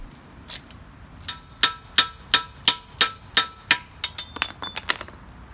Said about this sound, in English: it gives a nice support to hammer the new one in